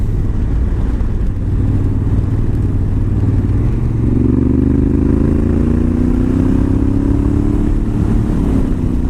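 Honda Africa Twin with DCT gearbox ridden slowly on a road, its engine droning steadily up close and rising in pitch as it gently accelerates partway through, with no talk over it.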